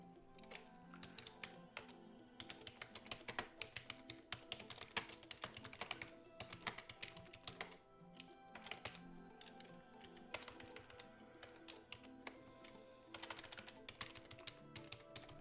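Steady, quick typing on a computer keyboard while card details are written down, a continuous run of close, crisp key clicks with brief pauses and no voice over it.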